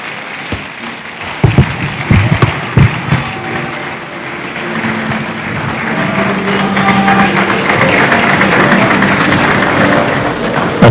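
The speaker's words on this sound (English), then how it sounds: "I think you'll agree with me that he deserves a way bigger round of applause than that." A hall audience at a 2023 investment summit in Anambra claps, with a few sharp early claps swelling into a loud, sustained wash of applause that builds toward the end.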